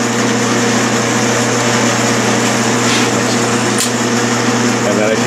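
A lathe runs with a steady motor hum while a geometric self-opening die head finishes threading. Partway through, a single sharp metallic click marks the die head tripping open, and the machine keeps running afterward.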